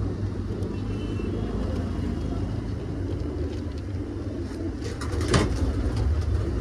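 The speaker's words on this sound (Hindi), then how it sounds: "प्योर पंजाबी कबूतर।" Pure Punjabi pigeons give faint cooing and wing sounds under steady wind and traffic rumble, with a slightly louder burst near the end.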